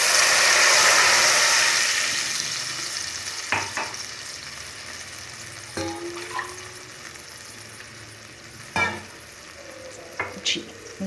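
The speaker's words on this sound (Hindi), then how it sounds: "इस स्टेज पे हम इसमें तकरीबन 2 कप पानी डालेंगे" Water is poured into a pot of fried masala for a rice and garlic curry, giving a loud hissing sizzle that fades over a few seconds, followed by scattered spoon clinks and stirring noises against the pot.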